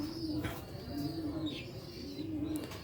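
Long-distance flying pigeons from Sialkot coo softly at close range, several repeated low rolling coos in a steady rhythm with a few faint chirps mixed in.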